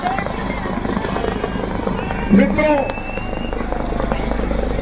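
A helicopter flies over an outdoor political rally, its steady rotor drone filling the air and swelling briefly as it passes overhead, while a man addresses the crowd through loudspeakers.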